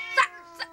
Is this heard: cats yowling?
yes